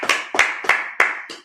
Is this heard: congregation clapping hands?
yes